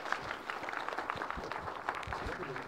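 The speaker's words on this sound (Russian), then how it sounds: "аплодисменты, все отлично." Audience applause at a Linux open-source developer conference, scattered clapping with irregular sharp hand hits, heard under and between voices talking in the hall.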